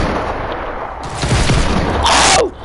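A cannon fires in a Fortnite game, producing loud booms with a sharp blast and rumbling bursts over a couple of seconds, close and alone.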